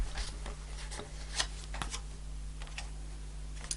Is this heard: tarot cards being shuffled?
yes